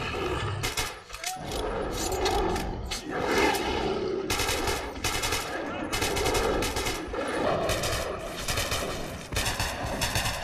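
Sustained gunfire against monsters in Metro 2033, rapid machine-gun bursts repeating across the stretch with short pauses, loud and close, with creature cries and game ambience underneath.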